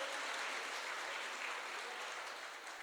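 An audience at a Jain religious discourse claps to welcome visitors from Dungarpur, a continuous, even roar of applause from many hands, fairly distant and sustained throughout.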